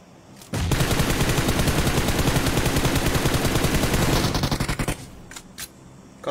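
Rapid sustained automatic gunfire in a shooting video game, a loud continuous burst of shots lasting several seconds before trailing off into a few isolated pops.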